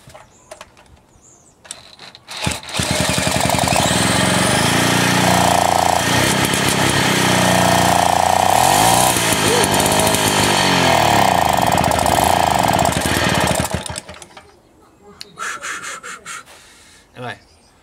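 Loud buzzing rasp of a Mobylette moped engine revving hard for about eleven seconds after a few sputters, close by, then dropping away to idle rattles and handling noise.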